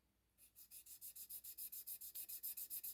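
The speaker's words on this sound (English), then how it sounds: "I'm gonna sand it at an angle" Fine sandpaper is rubbed at an angle across a small thrust bearing in quick, even back-and-forth strokes, close and quiet, about sixteen rhythmic scrapes with no talking.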